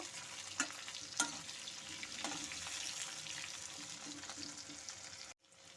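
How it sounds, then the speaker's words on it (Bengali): Steady sizzling of potatoes and jackfruit seeds frying in hot oil, with a few sharp stirring clanks early on, before the sound cuts off abruptly. "ভালো করে তেলের সাথে একটু ভাজা ভাজা করে নেব"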